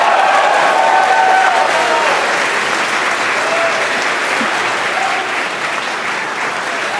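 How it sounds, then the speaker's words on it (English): A crowd at a Falcon 9 Block 5 launch carrying Dragon CRS-20 cheers and applauds in a steady, dense wash that fades slightly toward the end, with scattered voices in the mix. "the cheers in the crowd behind me"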